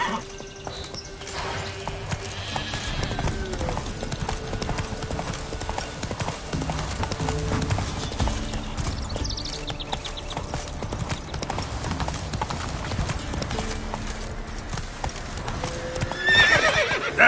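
Roach, a horse in The Witcher 3 video game, gallops with dense, continuous clip-clopping hoofbeats close by, with neighing heard early on and a louder whinny at the end.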